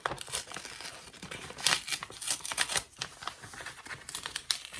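Brown paper grocery bag being slowly torn apart by hand, a run of dry crinkling rips and crackles close up, with no talking.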